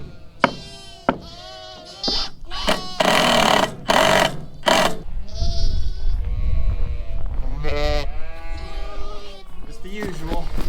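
Sheep bleat repeatedly in a barn at winter lambing time in Canada, loud harmonic cries near and overlapping, with a steady machine-like hum beneath and people talking at times.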